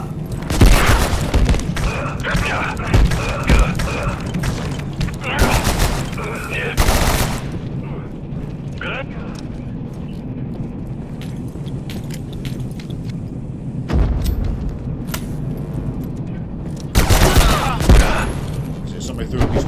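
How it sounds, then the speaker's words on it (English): Grenade blasts and gunfire in the video game Abiotic Factor: loud bursts of shots and booms in several clusters across the clip, with quieter stretches of low rumble between them. "So somebody threw at least one grenade."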